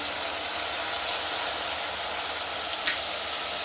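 Seasoning fries in a hot pan while ackee and saltfish is being cooked, giving a steady, even sizzle and hiss throughout, close and alone with no talking.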